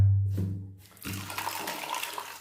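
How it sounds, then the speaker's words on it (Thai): Eyeglasses rinsed under a tap with diluted dish soap: a short low gurgle, a brief pause, then a bright, steady splash of running water hissing over the lenses, close and fairly loud. "ล้างแว่นครับ ล้างให้ทั่วครับ"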